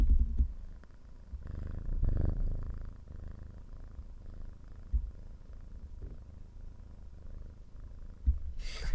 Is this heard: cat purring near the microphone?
yes